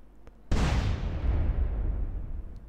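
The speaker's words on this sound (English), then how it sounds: "Where's the explosion coming from?" Explosion in a GTA DYOM mission: a sudden loud blast bursts in after a half-second lull, then a heavy rumbling roar that stays strong and slowly decays over the next two seconds.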